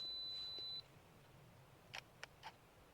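A camera's two-second self-timer gives a single steady high beep before going quiet, followed by a few faint clicks and handling taps, recorded outdoors during woodland landscape photography in the Lake District.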